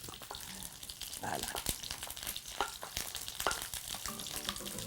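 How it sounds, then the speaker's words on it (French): Gambas (prawns) sizzling and popping as they fry in a hot pan, a steady crackling hiss with occasional louder spits, while someone speaks briefly over it. "on met les gambas à cuire. Bon, ça saute un tout petit peu"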